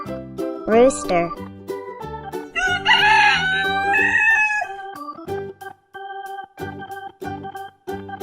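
A single rooster crows once loudly over bright, bouncy children's music, followed by a shorter fowl-like call, with the cheerful tune carrying on alone afterward.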